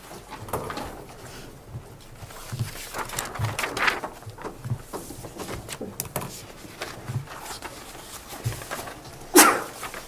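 A single loud sneeze bursts out near the end of a commission meeting, after several seconds of low room noise and scattered soft knocks.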